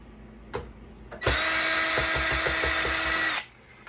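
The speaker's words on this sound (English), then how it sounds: "I'll go ahead and try to get those screws off." A power drill backs screws out of a Hewlett-Packard server being scrapped: a few brief clicks, then a loud, close, high whine held for about two seconds before it stops.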